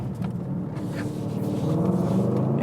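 Mercedes-AMG GLE 63 S Coupe exhaust while turning hard into a hairpin corner, a low, steady engine and exhaust rumble that swells slightly toward the end, heard from inside the car without talk.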